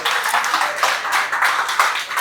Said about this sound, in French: j'aimerais vous demander très sérieusement de vous applaudir vous-même